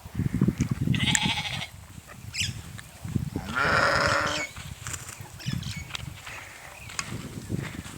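Sheep in a mesh-fenced farm pen bleating a few times, loud drawn-out calls close by amid shuffling and other animal noises.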